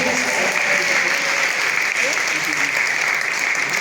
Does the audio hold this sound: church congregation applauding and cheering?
yes